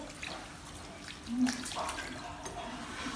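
Running tap water pours over hands during a handwashing step in midwifery childbirth-care training, a steady soft hiss of flowing water with a brief splashier surge in the middle.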